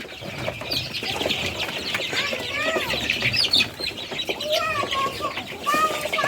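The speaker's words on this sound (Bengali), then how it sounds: "ফার্মের যে মুরগিগুলি দেখতে পাচ্ছেন উনি এখানে চাষ করে" Egyptian Fayoumi chickens on a farm cluck and chirp nonstop, many overlapping calls close by and fairly loud, with no talk over them.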